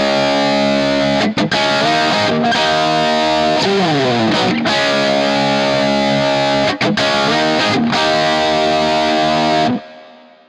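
Electric guitar triads played through a Junior CDM effect pedal, giving a thick, organ-like tone: sustained distorted chords that shift and bend over about ten seconds, close and loud with no talk, cutting off at the end.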